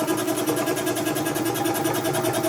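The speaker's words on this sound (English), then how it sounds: "I got the air compressor fixed." An air compressor runs steadily after a repair to loose wiring contacts, a continuous close motor-and-pump drone with a fine rapid pulsing throughout, loud and without pause.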